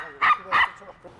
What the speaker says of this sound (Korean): 갑자기 강아지가 짖고 달려들었잖아.